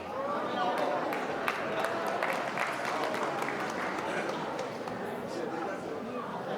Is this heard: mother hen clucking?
no